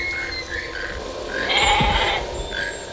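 A goat bleats in a scene from the Jurassic Park film, several drawn-out nasal bleats with a strained rising cry in the middle, heard over a low background rumble and no talk.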